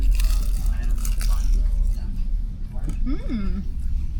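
Someone bites into a crunchy samosa-like pastry dipped in yogurt in Riyadh, Saudi Arabia, giving close, crackly crunching, followed by a brief appreciative hum from a voice.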